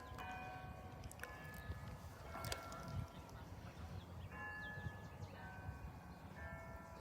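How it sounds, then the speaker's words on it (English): Church bells chime in the background outdoors in Winnsboro, Texas, during a total solar eclipse, their steady ringing tones sustained under a noisy, hissy background. "bells chiming in the background."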